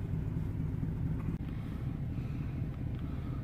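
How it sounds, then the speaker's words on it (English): A vehicle driving along rural roads past crop fields, a steady low engine and road rumble with wind buffeting, continuous and close. "I'm driving down some of my roads here"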